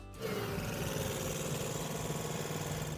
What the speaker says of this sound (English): If you have any idea what might be causing this engine noise